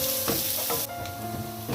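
Chopped onion and curry leaves sizzle in a hot pan, a bright steady frying hiss broken by a few soft stirring scrapes, with no talk.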